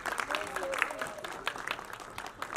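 An audience at a film screening at Carnival Cinema in Andheri gives brief, moderately faint applause as CEO Vishal Sharma is called on stage. Scattered voices rise over the clapping.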